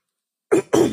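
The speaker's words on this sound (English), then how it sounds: "I have to clear my throat." Two quick, sharp throat-clearing bursts from one person indoors, close and fairly loud, following a brief silence.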